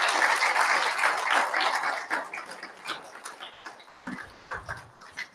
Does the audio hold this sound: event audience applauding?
yes